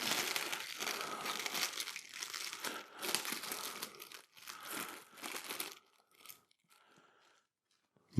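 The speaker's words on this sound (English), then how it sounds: "I have to be very careful unwrapping these" A 3D printed alien model being carefully unwrapped from a box: dense crinkling and crumpling of packaging for several seconds, then sparse quieter rustles and a final soft thump.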